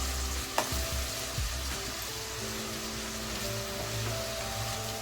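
Onions frying in a pan while being stirred, with a steady close sizzle and a few soft scrapes of a spoon near the start.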